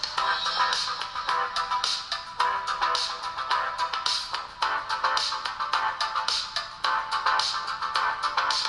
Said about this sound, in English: here's a sample speaker test for you to judge.